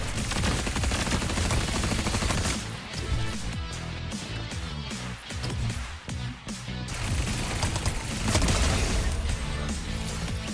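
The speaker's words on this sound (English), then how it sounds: "these pulse pistols are so fun" Pulse pistols fire in the video game Fortnite during an Overwatch crossover event. The shots come as dense, loud, continuous rapid fire, layered over game sound with no talking.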